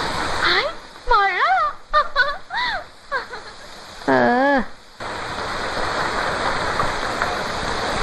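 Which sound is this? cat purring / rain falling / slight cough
rain falling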